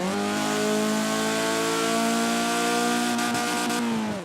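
A car engine in the Forza Horizon 4 racing game revs hard and holds steady at the rev limiter, a loud sustained buzzing drone with strong harmonics, then briefly stutters near the end as the limiter cuts in.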